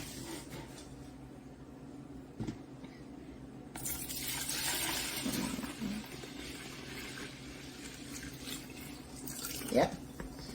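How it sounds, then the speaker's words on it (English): Carrot juice pours steadily into a pitcher for several seconds, a soft continuous splashing under quiet talk, ending with a brief clink. "let me just pour it in"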